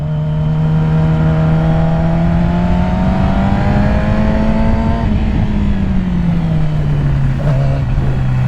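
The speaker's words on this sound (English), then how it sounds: "the way these old Japanese four-cylinders sound, it's so addicting" Yamaha YZF R6 four-cylinder sport bike engine droning loudly and steadily while riding, its pitch rising and then easing back down, heard close with constant wind rush behind it.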